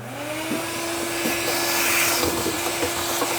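A shop vacuum used for workshop dust collection runs with a steady, fairly loud whooshing roar and a constant motor whine, with a few faint knocks from the hose being handled.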